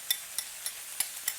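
A spatula scrapes and knocks rice around a pan while quick Indonesian nasi goreng is stir-fried, giving six sharp, evenly spaced strikes about a quarter-second apart, close and fairly quiet with little sizzle underneath.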